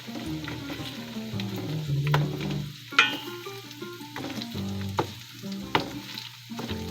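Tomato paste sautés in a hot pan, a close steady sizzle broken by sharp scrapes and knocks of a spoon stirring, with music faintly underneath.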